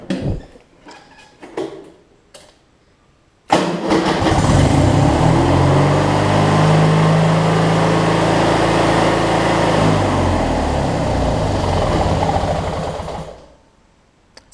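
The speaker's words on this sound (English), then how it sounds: "the motor's running with no choke on" Craftsman lawn machine's Briggs opposed twin engine idling steadily with no choke, a loud continuous drone that starts abruptly after a few knocks and clatters and then cuts off near the end.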